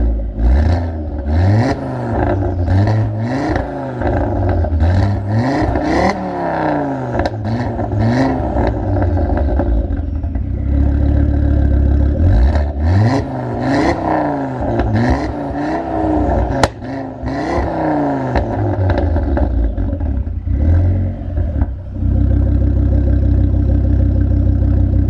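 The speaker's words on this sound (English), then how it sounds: "we'll give her a few revs, see what she sounds like" A rebuilt, recovered stolen car's engine revs repeatedly from the rear, rising and falling in several throttle blips between idle, loud and close, with no talking.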